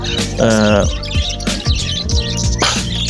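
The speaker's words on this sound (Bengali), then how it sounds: "দেখেন কীভাবে খাবার খাচ্ছে একলাগে অনেক পাখি" Many caged birds at a bustling bird market, including budgerigars, lovebirds and pigeons, chirp and tweet in quick overlapping bursts close by amid general market bustle.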